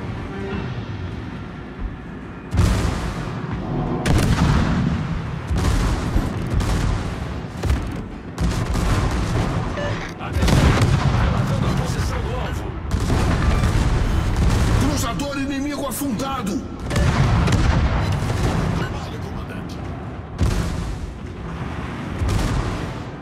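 Naval guns boom repeatedly in World of Warships on PC, heavy close blasts arriving in irregular bursts with rumbling tails, over continuous battle noise and occasional game voice lines.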